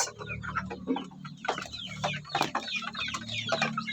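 Three-week-old chicks on a Philippine farm clucking and peeping in a busy, overlapping chorus, close and steady throughout with no talking.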